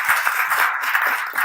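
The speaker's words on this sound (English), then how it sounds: "big round of applause for Patrick and Lonnie" Dense, continuous audience applause at a live storytelling event, many hands clapping loudly and steadily throughout with no voices on top.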